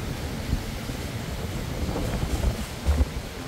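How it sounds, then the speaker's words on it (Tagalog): Strong super typhoon wind: steady rumbling wind buffeting the microphone, with stronger gusts swelling in bursts and no voices. "Yung malakas pa din, may pabugso-bugsong hangin."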